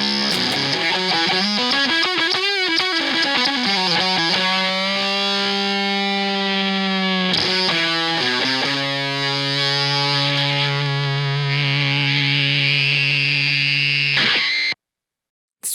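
An electric guitar runs through a fuzz pedal routed by a loop switcher, giving thick, distorted sustained notes and slides that ring out loudly before cutting off abruptly near the end.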